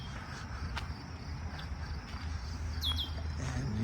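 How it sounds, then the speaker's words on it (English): Birds chirp in a rain-soaked forest, with a few brief distant calls and short sweeping tweets over a steady insect-like background hum, no talking. "you can hear the birds chirping in the area"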